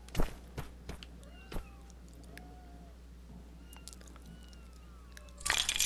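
A cat meows in the Lego Harry Potter game, a few faint, thin mews over quiet background ambience with scattered clicks and a louder crunchy burst near the end.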